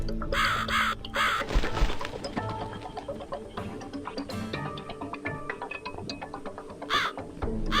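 A crow caws in the video game The Cat Lady, repeated harsh calls among ticking and layered ambient game sounds at moderate level.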